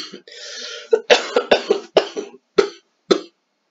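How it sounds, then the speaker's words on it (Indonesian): A short burst of coughing, several sharp coughs in an uneven series, close and fairly loud, with a brief throat sound at the start. "Aduh, maaf batuk ya."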